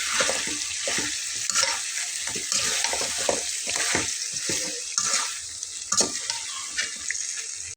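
Diced potatoes sautéed and stirred into a spicy goat head masala curry in a pan, giving a steady sizzle with repeated scraping and stirring strokes throughout, close and fairly loud, with no talking.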